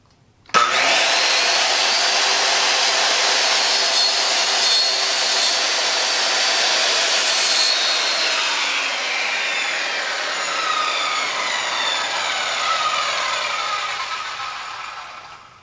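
A power saw cuts wood for a birdhouse, starting abruptly and then running as one loud continuous whine for about fifteen seconds before easing off at the end, close up with no talking.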